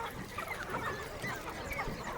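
Free-range desi chickens cluck softly at a high-tech poultry farm on a cool morning after rain, with scattered faint clucks and fowl calls over a low, distant outdoor hush.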